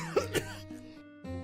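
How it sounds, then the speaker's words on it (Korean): A man coughs severely, with two sharp, close coughs in quick succession followed by a brief rough throat sound and a quieter trailing breath. "아들이 갑자기 기침을 심하게 하는 것이었다."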